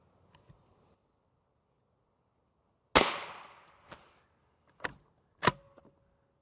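Gunshots fired into a Level III UHMWPE armor plate at a range: one loud, sharp report with a ringing decay, then three more distinct cracks spaced about a second apart, with no voices.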